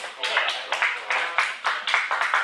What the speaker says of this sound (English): Clap it up if they're old enough to move away.